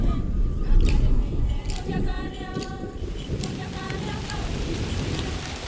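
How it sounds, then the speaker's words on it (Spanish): Heavy rain finally pouring down over a dry, parched savanna, a steady broadband wash of falling water with low rumbles that may be distant thunder, continuous and fairly loud throughout without any voices. "Grandes cúmulos se forman sobre la sabana reseca y con 3 años de retraso descargan por fin la lluvia."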